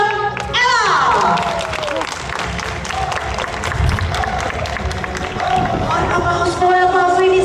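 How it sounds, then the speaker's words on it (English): Audience applause and cheering at a dolphin show, a dense steady crowd clapping throughout, mixed with whistles and an announcer talking over it. "clap your hands and welcome Ella!"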